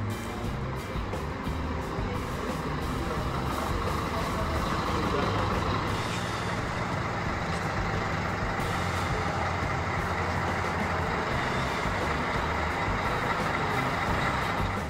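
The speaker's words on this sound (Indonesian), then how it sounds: "kita balikin lagi parkir ke dalam ya" A Scania premium bus reverses back into its parking spot, its engine rumbling loud and steady throughout, with reversing beeps and bursts of air-brake hiss over the drone.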